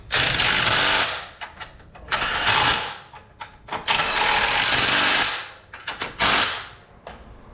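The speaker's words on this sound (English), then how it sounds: "So I'll go ahead and snug these bolts up." Bolts on a hidden winch mount for a Lexus GX470 being snugged up with a power tool, several loud close whirring bursts of varied length with brief clatter between, no talking.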